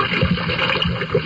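A small boat is shoved off into the water, with close, uneven sloshing, gurgling and splashing that comes in irregular bursts with no voices.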